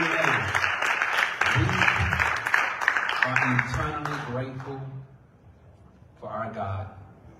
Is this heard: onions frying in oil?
no